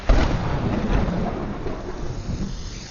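A thunderstorm in a Telugu action-romance movie scene: heavy steady rain hisses throughout under a deep, loud rolling rumble of thunder that swells early and slowly fades, with no voices.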